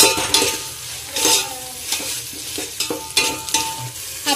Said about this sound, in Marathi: हा मसाला तेलात छान परतला पाहिजे